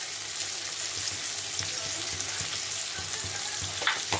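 Olives with salt and turmeric powder fry in a pan, giving a continuous close sizzle with occasional soft stirring scrapes and a few brief clicks near the end, and no voices.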